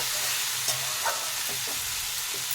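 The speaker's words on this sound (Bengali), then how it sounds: "আর সবগুলোকে একটু নাড়িয়ে দেব" Prawn curry with potato and eggplant being stirred in a pan: a steady frying sizzle with a few soft spoon scrapes, close and even, with no talking.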